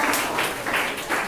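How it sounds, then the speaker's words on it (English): An audience applauds a contestant at a Class 9 school biology quiz, a steady wash of clapping from many hands in bursts that swell and ease over a second or so, fairly close and with no voices over it. "So clap for him."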